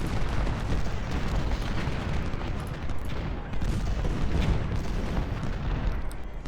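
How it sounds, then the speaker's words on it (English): Artillery fire in the Ultimate General: Civil War video game: a dense, continuous rumble of booming cannon fire and battle noise, loud and unbroken throughout. "they got artillery right there"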